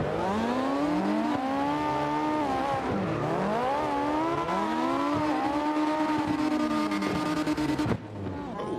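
A Mazda RX-7 engine in a Burnout racing video game revs and wails loudly, its pitch rising and falling through repeated gear shifts, then cutting off abruptly near the end.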